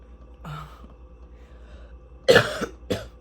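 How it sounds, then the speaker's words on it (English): A few short coughs from a lingering cold, a soft one early and then two sharper, louder coughs near the end, close by in a quiet room. "I just have a little bit of a cough and a little bit of a sniffle left."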